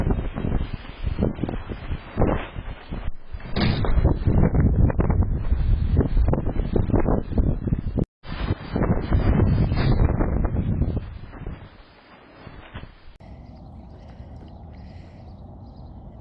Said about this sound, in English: You can see how hard the wind blew